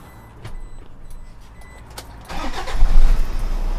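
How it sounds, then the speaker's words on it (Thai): A 2006 Toyota Vigo Prerunner pickup truck engine cranks and catches after a few faint clicks, then settles into a steady, rumbling idle close by. "ฟังเสียงเครื่องยนต์"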